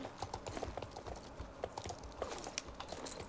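Rapid clip-clop of horse hooves trotting steadily in a video game, fairly close and clear, with a faint rumble of background noise underneath.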